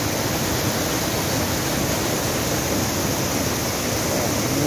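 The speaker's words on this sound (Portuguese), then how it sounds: "Essa aqui é a Cachoeira do Juí" Dense, constant roar of the Cachoeira do Juí waterfall on the Macaé River, Brazil, loud and unbroken throughout, with no voices.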